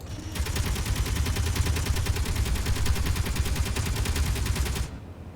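Missiles fired at enemy turrets in the video game Space Engineers, a dense, rapid, continuous rattle of launches lasting several seconds before cutting off abruptly, loud and close, with no talking.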